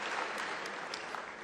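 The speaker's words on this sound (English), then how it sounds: "we need a round of applause for our Chancellor and his initiative" Audience applause at a university academic-year closing ceremony for the Chancellor, a steady, distant wash of many hands clapping at low level without any break.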